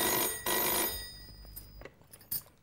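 A telephone rings in a home, with two loud bursts of ringing close by, followed by quiet room sounds and small clicks.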